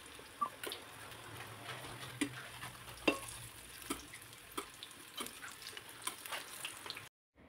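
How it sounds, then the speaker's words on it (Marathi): Bitter gourd fritters shallow-frying in a little oil give a faint, steady sizzle, punctuated by light taps and scrapes as they are turned, ending in a brief silence. "कमी तेलामध्ये असं पलटी करत ही भजी व्यवस्थित तळून घ्यायची"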